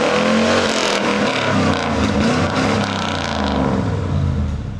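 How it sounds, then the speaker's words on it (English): A Chevrolet Caprice Classic's V8 engine with stock exhaust gives a steady, dull roar with a low, broad rumble, loud and continuous throughout. "Not much of a Chevy V8 rumble, just more like a dull roar, at least in stock form."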